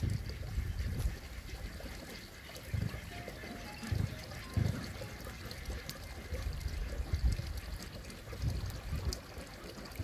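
Calcium nitrate fertilizer granules are dropped into water to dissolve, giving a steady, soft trickling and splashing of liquid throughout, fairly close, with no talking.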